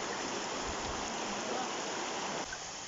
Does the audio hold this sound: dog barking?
no